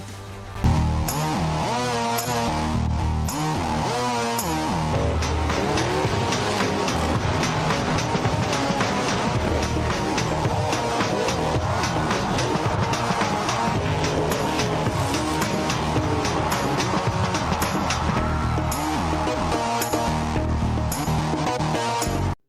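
Hot Modified race cars roar around the Bowman Gray Stadium track, a loud, sustained engine drone that swells and fades as the pack passes, with crowd and track noise mixed in.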